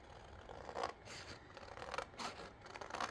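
Scissors cut paper along a drawn line for a scrapbook layout, making a few soft, close snipping and sliding cuts in a quiet room.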